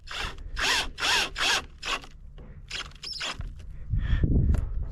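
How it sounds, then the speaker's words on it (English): A drill drives screws through Trex composite decking to lock the picture-frame miter corners, making several short whirring bursts in a row, then a few quicker ones, with a duller rumble at the end. "locking the miters in place with a screw."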